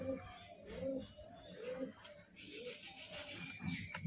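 A male pigeon coos softly in repeated low, rounded calls over a steady high-pitched hum, fairly faint and close.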